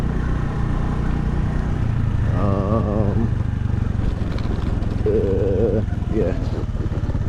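A small Honda Navi motorbike engine riding off-road on a torn-up dirt track, a steady loud drone held throughout with a couple of brief whining pitch shifts, close to the rider.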